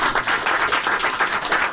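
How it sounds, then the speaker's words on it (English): Room full of assembled current and former WCBS radio station employees clapping together, a close, continuous wash of applause with a faint rhythmic pulse and no talk. "A little round of applause for all of us."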